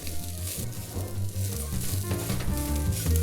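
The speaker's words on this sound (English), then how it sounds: "And just stir it all together until it's all well coated." Vegetable fried rice with brown rice sizzling in a pan as it is stirred, a continuous close crackle with a low hum running underneath for the whole few seconds, no voices.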